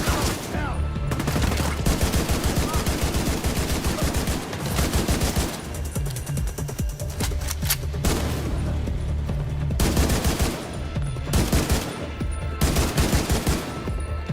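Rapid automatic gunfire in the shooter game Tom Clancy's The Division 2 at a museum in Washington D.C., dense bursts of shots repeating loudly throughout with brief pauses between volleys.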